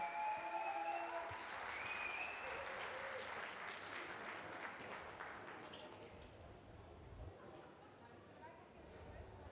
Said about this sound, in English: a big applause for Dwayne Panka for sure